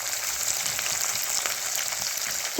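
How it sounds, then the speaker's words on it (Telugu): Plenty of sliced onions fry in a pan for dosakaya curry, a continuous, dense sizzle crackling close and steady throughout with no voices over it. "సో ఎక్కువ ఉల్లిపాయలు వేసి చేసేస్తున్నాను నేను"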